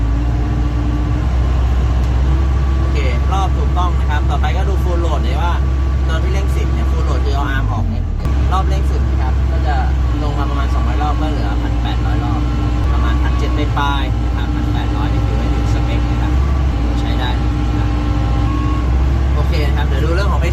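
A CAT 312D2 excavator diesel engine drones loud and close, stepping its revs up through the throttle settings, with a brief dip midway, while someone talks over it.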